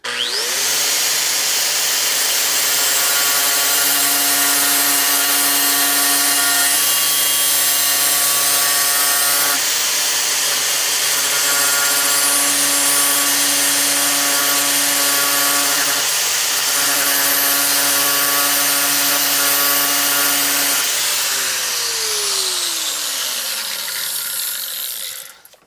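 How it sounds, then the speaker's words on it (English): An angle grinder cuts a metal part for a knife handle with a loud, continuous high whine and harsh grinding hiss, close by, holding steady for about twenty seconds before the tool spins down at the end. "So for me, I'm just gonna use the angle grinder."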